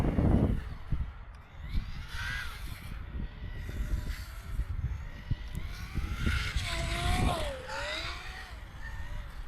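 An FTX Funtek GT16 RC car runs laps on a makeshift track with chicanes and a long straight, its small electric motor whining up and down in pitch as it accelerates and slows, with scuffing tyre noise nearby.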